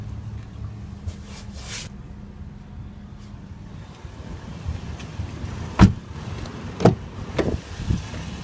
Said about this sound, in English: There's our power windows,